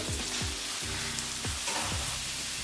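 Chicken pieces sizzle steadily in a frying pan as they are flipped one after another, each turn bringing a soft scrape or tap against the pan over the constant hiss.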